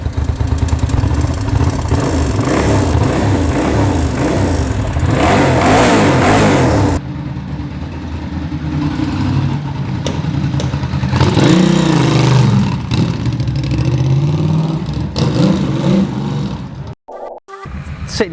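A Ducati 750SS cafe racer motorcycle starts up and revs, its engine barking loud and close through repeated throttle blips between rough idling, with a few abrupt cut-outs near the end.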